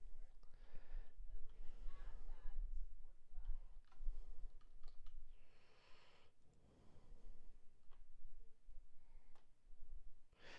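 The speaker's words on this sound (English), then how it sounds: "I'm using a keyboard" Computer keyboard keys clicking in uneven bursts through a quiet room, close and fairly soft, with breathing and light speech-like murmurs mixed in.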